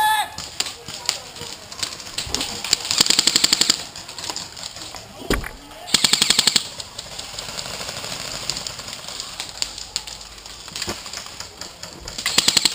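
Airsoft gunfire during an outdoor airsoft game, likely from a KJW 1911 pistol, rings out as quick bursts of sharp snapping shots spread through the clip, with players talking over the action.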